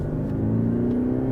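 Engine note of an Audi A6 heard steadily from inside the cabin, a smooth sustained hum with low rumble and no obvious rise in revs, fairly loud with no voices.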